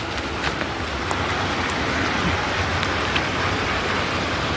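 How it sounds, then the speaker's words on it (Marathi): Heavy rain falling on a Mumbai street, a dense steady hiss with scattered drip spatters and faint traffic beneath. "पाऊस परत चालू झाला आहे आता मोठा."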